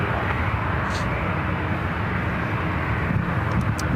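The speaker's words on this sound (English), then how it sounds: "United Airlines coming in from San Diego, flight 2381 is 737 MAX 8 going around" A United Airlines Boeing 737 MAX 8 airliner going around at San Francisco airport, a steady broadband jet roar heard from a distance, holding constant throughout with no talk.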